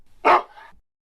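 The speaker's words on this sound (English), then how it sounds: "Wait, the wolf's name is Timber?" A single short bark from a wolf, close and loud, trailing off into a brief rougher tail.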